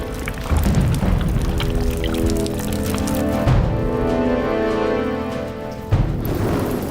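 Heavy torrential jungle rain pours down steadily in a loud, continuous wash, with a few brief surges, and no voices.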